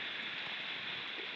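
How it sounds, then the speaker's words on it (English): Heavy rain falls at a South American bus stop, a faint, even hiss that continues without a break. "It's raining a lot."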